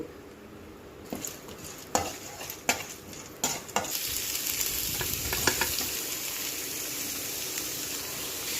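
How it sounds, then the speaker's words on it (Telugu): Tempering spices such as mustard seeds, cumin, chana dal, garlic and curry leaves fry and sizzle in a pan, with a few sharp spatula scrapes and stirring clicks, then a steady, louder sizzle settles in. No one speaks. "ఇవి బాగా తేమ పోయిన దాకా ఫ్రై చేసుకోవాలి"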